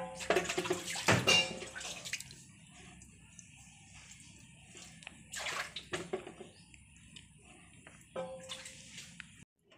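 Water splashes and runs over a pet rabbit's body while it is bathed, coming in short bursts with quiet pauses between, close and fairly loud.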